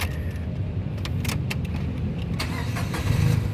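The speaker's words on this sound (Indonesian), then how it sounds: "coba kita nyalakan mobil." A 2016 Datsun GO+ Panca 1.2 T Option with a manual gearbox is started up. The starter cranks briefly in a loud, close burst, and the engine catches into a steady running rumble with no talking over it.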